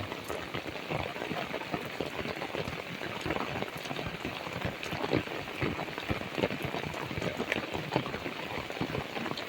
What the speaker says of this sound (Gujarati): બહુ ધોધમાં વરસાદ છે